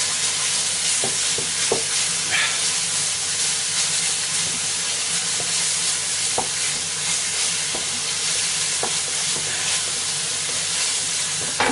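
Yoghurt chicken curry sizzles and hisses steadily in a pan while being stirred, with occasional soft scrapes and clicks of the spoon over the constant frying.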